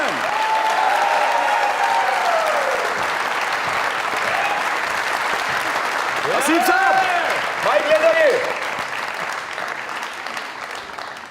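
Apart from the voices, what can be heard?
audience applause on a live comedy show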